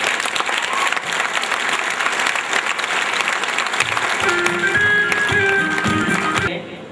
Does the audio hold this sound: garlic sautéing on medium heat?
no